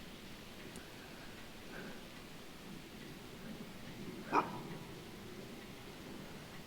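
A farm dog named Waya lets out a single short bark in a wooded area, fairly distant and faint over rustling background noise.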